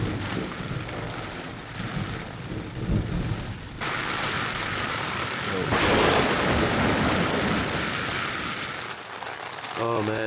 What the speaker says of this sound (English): it's been 2 hours since the storm started